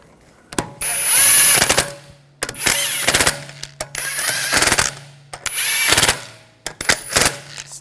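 An impact wrench snugs the wheel lug bolts on a 2009-2013 BMW 328i xDrive, firing six loud, close, rattling bursts of one to two seconds each, separated by short pauses in a garage.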